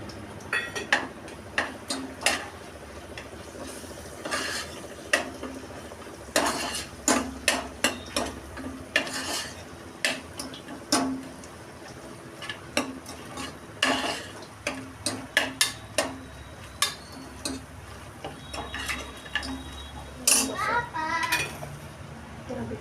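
A spoon stirring and scraping chickpea flour as it sautés in a pan, with repeated sharp metallic clinks in an irregular rhythm over a low sizzle; a voice talks between the clinks.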